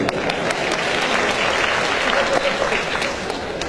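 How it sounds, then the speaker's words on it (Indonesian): Audience applause at an Indonesian stand-up comedy show, a dense, steady clapping from a large crowd that fills the whole stretch at even loudness without letup. "Dan tepuk tangan buat wanita-wanita Indonesia."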